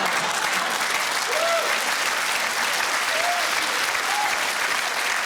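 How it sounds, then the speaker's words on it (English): Studio audience at a comedy show applauding steadily, a dense sustained clatter of clapping throughout with a few faint voices in the crowd. "I love the fact that the crowd applauded"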